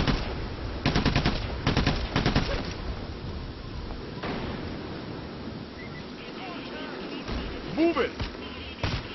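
Game gunfire in PAYDAY The Heist comes in loud, rapid automatic bursts early on, then gives way to a steady wash of background noise with fainter scattered shots and a few electronic tones.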